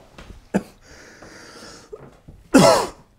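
A man coughs sharply in a kitchen while making very spicy chili. There is a small burst early, then one loud, harsh cough near the end amid quiet rustling.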